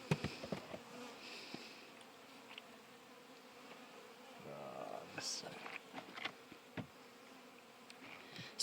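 Honey bees buzz softly around a small spring hive as frames of honey are added, a faint steady hum with scattered bumps and knocks of handling nearby.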